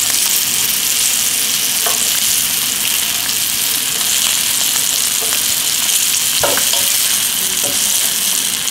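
Scallops searing in a hot pan make a loud, close, constant sizzle, with a few light clicks of the pan and no voices.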